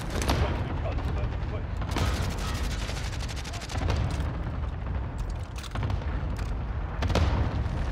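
Airstrike explosions in a video game: a dense wall of booming blasts and crackling gunfire-like bursts. The thick, loud barrage swells repeatedly over about eight seconds, with voices in the background.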